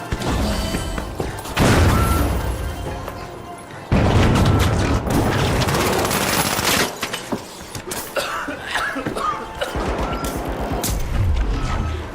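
Grenade blasts and combat in a ranked match of The Finals: several loud, close bursts and crashes recur amid gunfire and mechanical clatter, with intermittent voices over the chaotic action.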